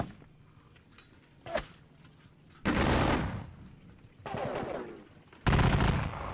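Artillery in the Napoleonic Battles Leipzig wargame fires in heavy, loud bursts: a short crack and then three long, broad booming volleys separated by quieter gaps.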